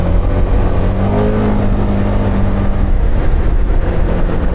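A Can-Am Outlander 1000R ATV with a 999cc V-twin two-cylinder engine pulls hard, a loud, continuous close-range drone with a rising tone as it accelerates, and no voices.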